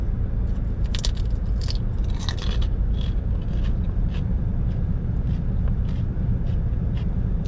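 Close, crisp crunching bites and scraping crackles come from someone chewing a styrofoam-textured snack inside a car, in irregular bursts over a steady low rumble.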